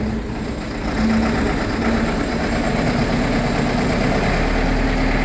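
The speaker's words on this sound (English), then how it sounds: "I thought the tractor already was started this morning. I should have let the glow plugs go." A diesel tractor on a dairy farm on a cold morning, its engine rising in level after about a second and settling into a steady, rough, rumbling idle close by, no voices.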